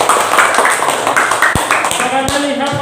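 A classroom of students clapping their hands together, a dense, steady patter of claps lasting the whole stretch, with a voice speaking over it toward the end.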